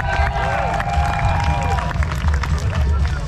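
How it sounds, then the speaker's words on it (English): Applause and cheering from an outdoor crowd at a cornhole tournament in the Glamis dunes, a dense, loud wash of clapping with crowd noise that runs throughout. "we also want to give a round of applause for Desert RV for hosting our cornhole tournament today"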